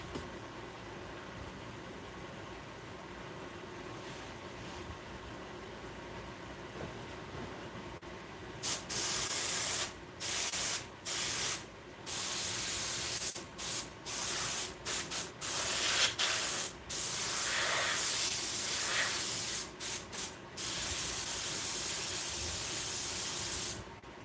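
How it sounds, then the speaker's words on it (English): A well-used airbrush in a workshop hisses in repeated close spray bursts of a second or two each, separated by brief pauses, after a quieter stretch of background noise. "This airbrush has seen some stuff."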